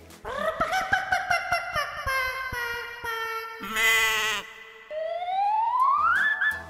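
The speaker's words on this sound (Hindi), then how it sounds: "ये बकरा कैसा है" A goat bleats repeatedly and close by, a run of wavering, nasal cries with short pauses between them, then a longer call that rises in pitch.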